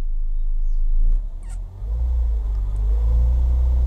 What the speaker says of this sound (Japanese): 今アクセルを踏みます。